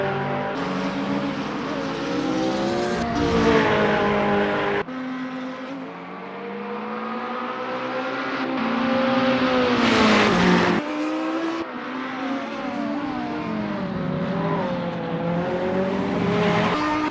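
GT3 race cars, including a Ferrari 488 GT3, scream through gears at the Hockenheimring GP, engines rising and falling in pitch with sharp shift cuts, loud and continuous with no talk.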